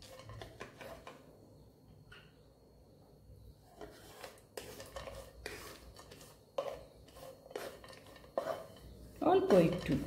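Sooji stirred in a pan over low heat makes soft, irregular scraping and clinking of a utensil against the metal, faint and close, with quiet background noise and louder scrapes toward the end.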